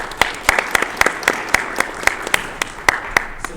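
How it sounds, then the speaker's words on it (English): An audience at a Toastmasters-style training event claps, sharp individual claps ringing out in a steady scattered rhythm, fairly loud and close, with little else beneath. "Let's give them a round of applause."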